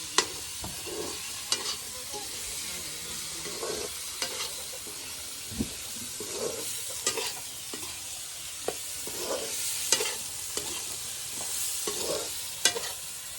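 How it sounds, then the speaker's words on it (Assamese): Chicken pieces frying in spiced masala in a pan, a constant close sizzle broken by regular scraping knocks of a spoon stirring, with no one speaking. "আকৌ ভালদৰে মাংসখিনি ভাজি লওঁ"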